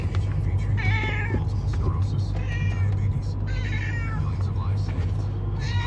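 A cat meows repeatedly inside a moving car on the way to the vet, several drawn-out, plaintive cries spaced a second or so apart over a low, steady road hum.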